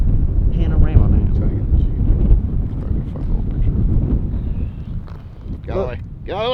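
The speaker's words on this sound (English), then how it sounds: "It's kind of windy too" Wind buffets a microphone outdoors along an overland 4x4 trail, a steady low rumble running throughout with voices talking over it.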